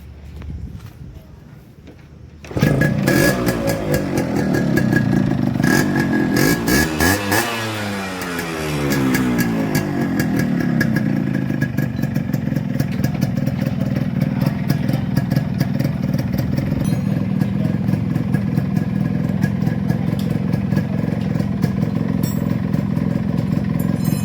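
A restored 1992 Yamaha RX 100, an original made-in-Japan bike with a fully rebuilt engine, starts up loud and close, revs with rising and falling pitch, then settles into a steady, rattly running note.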